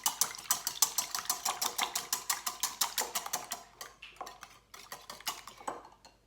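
Two eggs being scrambled in a bowl, a utensil clicking rapidly and evenly against the sides in a close, bright whisking rhythm that slows and grows irregular near the end.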